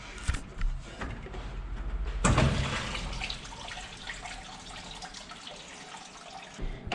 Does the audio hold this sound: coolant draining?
yes